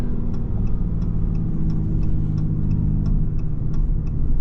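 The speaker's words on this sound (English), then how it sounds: "Engine brake on this thing is amazing, which I love." A new work truck hauling a Cat D3 on a gooseneck trailer uses its engine brake to slow on an interstate ramp, giving a loud, steady low engine drone with a faint regular ticking running through it.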